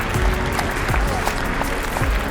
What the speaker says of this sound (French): Et pour ça vous pouvez déjà les applaudir s'il vous plaît.